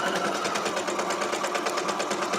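A sewing machine stitches fabric scraps together, running at a fast, even mechanical rhythm of needle strokes, loud and close with no talking.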